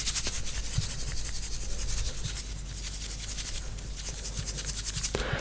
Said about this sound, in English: Salt shaker.